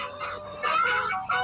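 A backyard rooster lets out a short crow near the coop, a loud sustained call heard close and alone.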